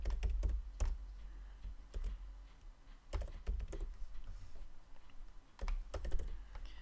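Typing on a computer keyboard while building web page anchors, with close, irregular bursts of key clicks and short pauses between them, heard alone.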